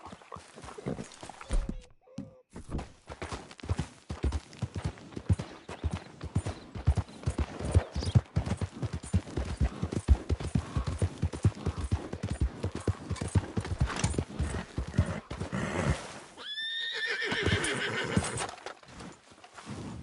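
Red Dead Redemption 2 horse hooves clip-clop in a quick, steady rhythm for a long stretch, followed by a loud horse whinny near the end.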